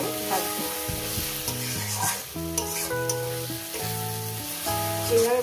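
Water spinach greens with turmeric frying in a pan, a constant sizzle with light stirring, heard under melodic background music.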